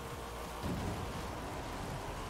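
Steady rain with a low rumble of thunder swelling near the start, from a storm in the racing game Forza Horizon 5, heard alone without talk.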